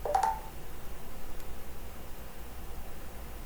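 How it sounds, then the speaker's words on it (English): A phone gives a brief two-tone notification chime at the very start, then only faint room hiss remains. "my phone is alerting me to Facebook"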